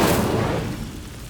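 Fiery spell cast in the video game Hogwarts Legacy: a loud whooshing burst that opens strongly and then fades into a rumbling flare over about a second.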